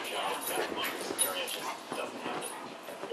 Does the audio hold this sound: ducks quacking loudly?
no